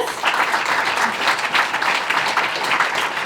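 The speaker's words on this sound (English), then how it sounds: "one last round of applause for our panelists" A final round of applause from the audience for the panelists at a New York enterprise tech meetup, a dense, loud burst of many hands clapping together that stays steady for a few seconds.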